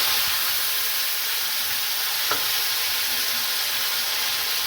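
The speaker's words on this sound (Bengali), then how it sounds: "এবার আমি টমেটোগুলো দিয়ে দিচ্ছি" Tomatoes dropped into a hot frying pan sizzle in a steady, close hiss that runs evenly throughout, with a single faint clink near the middle.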